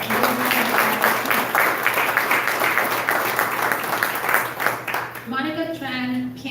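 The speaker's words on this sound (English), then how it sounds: "Let's give him a big hand of applause." An audience at a community forum on diversity and equity applauds, a dense wash of clapping filling the middle of the clip, with a voice speaking briefly at the start and again as the applause fades.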